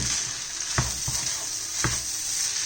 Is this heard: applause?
no